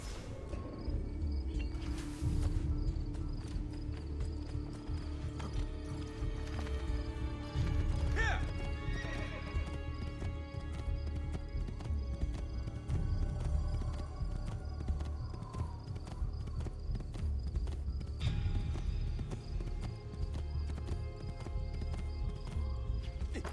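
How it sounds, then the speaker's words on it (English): Horses in the video game Assassin's Creed give repeated neighs and whinnies over steady clip-clopping hooves, set against continuous game ambience throughout. "All these horses just standing around."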